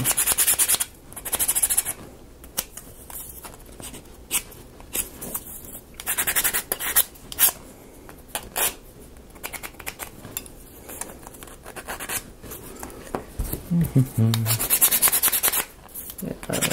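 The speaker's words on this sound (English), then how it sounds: "I can see why you don't want to watch me sand." Small wooden pieces for a Notre Dame de Paris model kit being sanded by hand, in repeated close, raspy rubbing strokes in uneven bursts with short pauses and a few light clinks.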